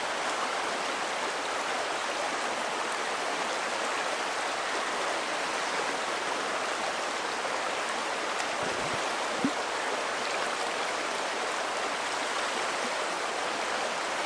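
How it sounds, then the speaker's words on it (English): Three litres of water pour steadily into a Camelbak bladder outdoors in the Australian bush, a loud, continuous rushing stream lasting well over ten seconds, with no speech. "So I'm just putting 3 litres into my Camelback"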